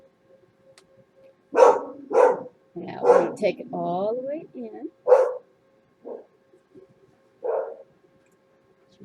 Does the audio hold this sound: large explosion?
no